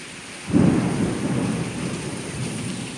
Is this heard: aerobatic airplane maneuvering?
no